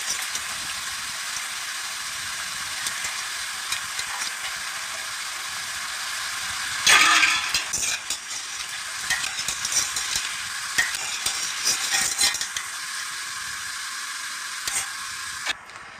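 Laddu dough balls frying in hot oil: a dense, continuous sizzle and bubbling holds close and loud throughout, with a brief surge of crackling partway through and occasional faint stirring clicks.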